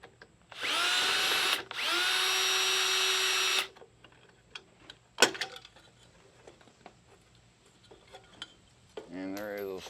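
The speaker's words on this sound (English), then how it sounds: "I'm gonna go ahead and take these adjustment screws off" Cordless power driver backing out headlight adjustment screws on a 1995 Harley-Davidson Road King, two loud sustained whirring bursts close by, followed by clinks of metal parts and a brief voice at the end.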